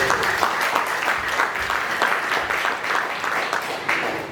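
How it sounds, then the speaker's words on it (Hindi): Guests at a first birthday party clap loudly together, a dense, sustained round of applause with slightly pulsing rhythm lasting a few seconds, close and full without speech over it. "जोरदार तालियां हो जाए"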